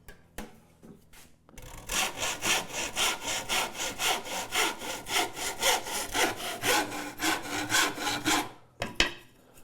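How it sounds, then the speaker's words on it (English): A hand saw rips a piece of small wood stock in two, giving a steady run of rhythmic back-and-forth rasping strokes, close and fairly loud, before it stops with a few final light taps. "Let's cut this in two and look at the saw kerf and see what we ended up with."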